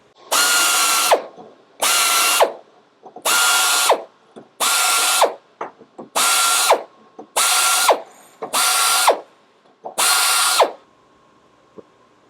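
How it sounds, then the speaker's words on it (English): Chamfer tool spinning in a flex arm chuck on tapped holes: eight loud, even bursts of whirring cutting about a second each, separated by short quiet gaps and small clicks, close up with no talk. "With this, I can chamfer my holes either before or after I tap them"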